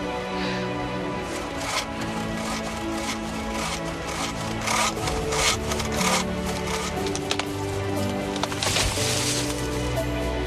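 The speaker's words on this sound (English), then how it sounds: "imagine that, a lady cutting down a tree" A spruce tree is sawed down in a video game, with a steady back-and-forth rasping of the saw on wood running the whole time under a layer of game music.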